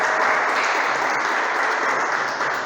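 Sustained applause from a church congregation, steady and loud throughout, a dense wash of clapping with no pauses.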